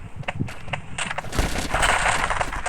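Rapid bursts of video game machine-gun fire from a Thai survival game against a giant kraken, crackling close and loud in quick overlapping volleys over a continuous stretch.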